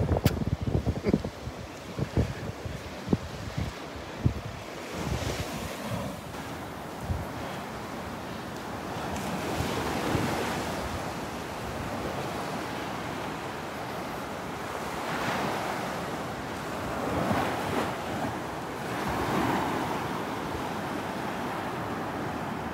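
Ocean surf rolling onto a Gulf beach at Delnor-Wiggins on a morning walk, a steady wash of breaking waves with wind noise buffeting the microphone and a few sharp knocks early on.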